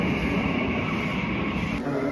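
Train noise at a Japanese railway station, a steady rumbling hum with a high electrical whine, continuous and fairly loud throughout with no voices.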